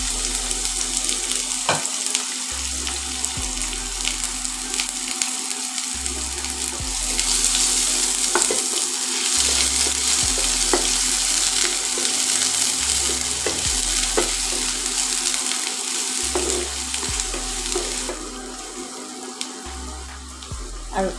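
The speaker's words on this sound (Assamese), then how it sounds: "তেলখিনি গৰম হৈ গৈছে আৰু ইয়াতে মই এতিয়া দি দিম এই কাটি লোৱা পিঁয়াজখিনি।" Chopped onions hit hot mustard oil in a pan on an induction cooktop, giving a continuous, close sizzle with intermittent stirring scrapes and a low electronic hum underneath.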